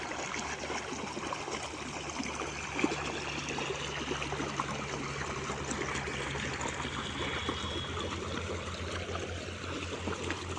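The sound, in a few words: irrigation water flowing under pressure on farm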